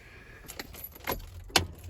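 Keys jangle faintly in an Audi VW car as it is switched off, giving a few soft metallic clicks and rattles over a low background rumble.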